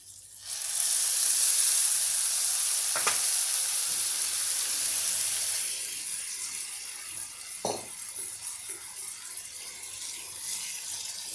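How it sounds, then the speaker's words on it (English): Vegetables lightly salted and frying in a pan give a loud, steady sizzle, with sharp bursts as water goes in, then a softer continuous hiss of steaming. "Now we add water in it."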